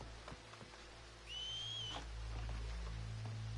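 A character in Red Dead Redemption 2 whistles to draw enemies out: one short rising whistle about half a second long, fairly clear over low game ambience, with no talk.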